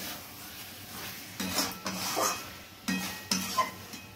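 Chicken pieces stirred with spices in a pan, bursts of scraping and clinking from a utensil against the pan at intervals over a faint sizzle, no talk.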